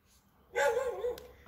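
A single dog lets out one loud, drawn-out bark-yelp close by after a quiet lead-in, trailing off with a short tail.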